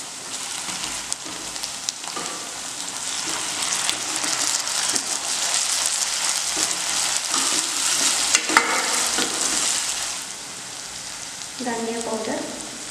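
Ginger garlic paste frying in a pan for brinjal curry, a steady close sizzle with stirring scrapes, swelling louder in the middle and easing toward the end.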